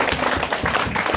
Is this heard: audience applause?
yes